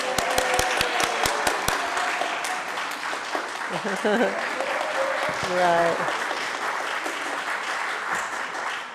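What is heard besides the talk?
applause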